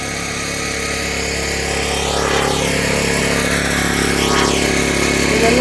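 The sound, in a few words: generator running on a fishing boat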